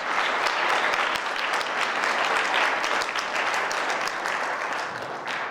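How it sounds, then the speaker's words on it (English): Sustained applause from a sizeable crowd at a young men's leadership conference, dense and steady clapping that fades slightly toward the end. "Clap one more time for the bros."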